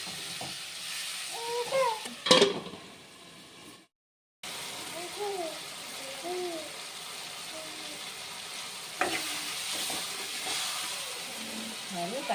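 Tomatoes soften in a pan, sautéing for a Chettinad vegetarian fish-style kuzhambu. A steady low sizzle runs throughout, with an occasional clatter of stirring. Speech-like pitched sounds sit over it, and the sound drops out briefly partway through.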